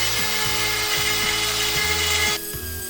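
A router fitted with a diamond bit grinds through a stone slab for an outdoor brick-built stove, giving a loud, steady, close high-pitched whine with rough grinding underneath that suddenly softens near the end; no one speaks.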